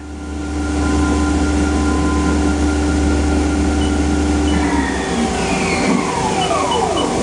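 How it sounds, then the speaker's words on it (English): Haas SL-40T CNC turning center running with a steady machine hum and tonal whine, its gearbox shifting into the high range partway through as the pitch changes, loud and close with no talk. "This machine has a gearbox. Shifting into the high range."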